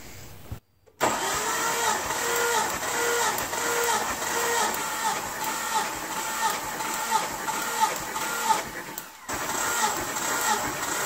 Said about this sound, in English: I'm just making sure I crank it plenty enough times to get this thing fully pressurized